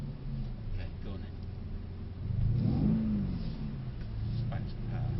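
A Mercedes C63s engine rises and falls as the throttle is blipped on and off, a mid-pitched revving swell under a steady road roar, with people talking over it inside the car.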